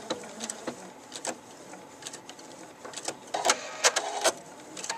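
A Pfaff Expression 4.0 sewing machine stitching a hand-quilt-style stitch with dual feed engaged, giving quiet irregular bursts of rapid mechanical clatter with short pauses between.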